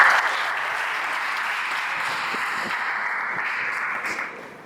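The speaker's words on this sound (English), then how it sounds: "please give yourself a round of applause" Sustained audience applause from young pupils and students at a self-leadership talk, a dense, steady roar of many hands clapping that holds evenly for several seconds before tapering off at the end.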